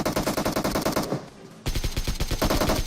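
PUBG gunfire rattles in rapid automatic bursts, loud and close, with a brief pause near the middle before another fast string of shots.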